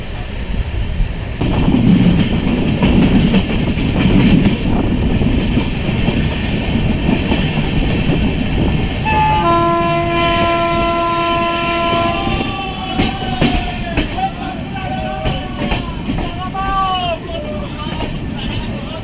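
A passenger train, the Sealdah–Jalpaiguri Road Humsafar Express, rumbles and clatters into a crowded station at night, with a long horn blast midway and crowd chatter in the background.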